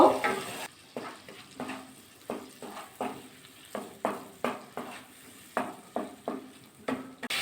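Spices with turmeric and salt being stir-fried in a pan, a low sizzle broken by a regular series of scraping spatula strokes, roughly one or two each second, with no voices.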